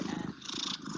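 A cat purrs close up in a steady, low rumbling rhythm that pulses through the whole short moment, heard alone.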